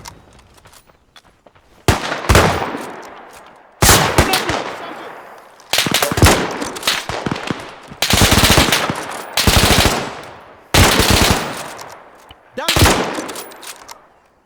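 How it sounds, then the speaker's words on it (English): Bursts of automatic gunfire in the Vietnam War game Arma 3 SOG Prairie Fire, about six loud rattling volleys spaced roughly two seconds apart, each decaying before the next, with no talk. "On s'est fait tirer dessus."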